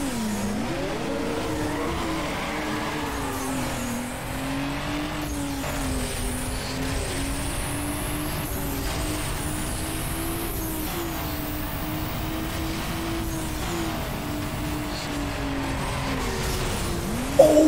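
Mazda RX-7 in a Need for Speed Underground drag race, its engine droning steadily and loud throughout with shifting pitch, rising revs and some tire squeal, no talking.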